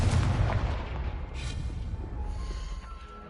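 A Confringo fire spell in the game Hogwarts Legacy bursts in a single booming explosion that rumbles and slowly fades.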